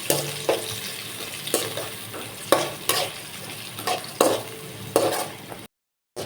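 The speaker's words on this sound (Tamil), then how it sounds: "பட்டை, கிராம்பு, ஒரு பெரிய சைஸ் வெங்காயம், 2 பச்சை மிளகா, நல்லா வதக்கி விட்டுக்கலாம்." Onion, green chillies, cinnamon and cloves are sautéed in a pan for cauliflower gravy. A steady close sizzle runs under repeated stirring scrapes that arrive at an uneven rhythm and cut to silence at the end, with no voices.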